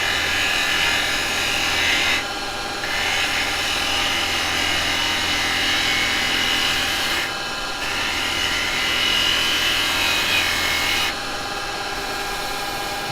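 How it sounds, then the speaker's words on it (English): A woodturning lathe runs with a steady hum while a detail chisel cuts the spinning wood, giving a continuous loud rasping hiss that drops out briefly three times as the tool is lifted away. "we go over to our detail chisel, drop the handle right down."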